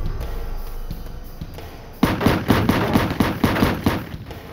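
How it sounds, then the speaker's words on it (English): A Mac 11 machine gun fires a rapid burst of about ten evenly spaced, loud close shots after a quiet stretch of background rumble. "Muzzle bursts ripped through the night air."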